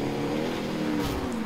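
A car engine revving hard during a video game chase, a short, loud, sustained roar that holds steady and then slides slightly lower in pitch.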